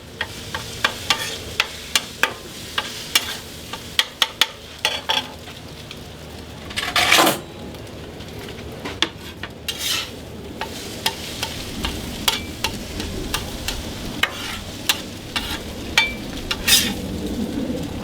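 Eggs and chorizo sizzle steadily in a pan while a utensil scrapes and taps against it in irregular strokes, close up with no talk.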